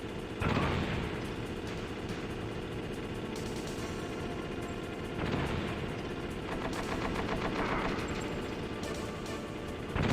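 Inside the Metal Gear Solid video game, several sharp blasts go off against a constant rumbling backdrop, with a burst of rapid crackling between them and a fresh blast at the very end, all with no talking.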